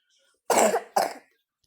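Two quick, close coughs, one right after the other, with silence around them.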